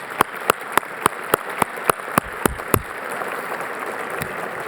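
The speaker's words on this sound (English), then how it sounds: "Can we give them a round of applause?" Audience applause at a policy institute event, starting with a series of distinct, evenly spaced claps that thin out, then settling into a soft steady wash of clapping that continues alone to the end.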